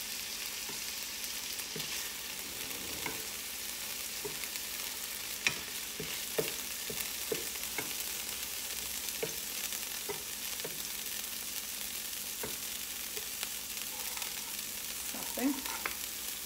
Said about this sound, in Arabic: هاد المريقه اللي كنلقى فيها الدجاج هي اللي غنشحر فيها البصلة والفلفلة